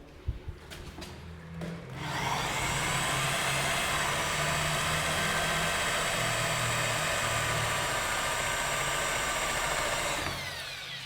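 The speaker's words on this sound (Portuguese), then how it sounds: "Aí aqui eu coloco outro parafuso" A power screwdriver drives a screw into a plasterboard niche, whirring steadily and loudly for about eight seconds after a few short knocks, then stopping.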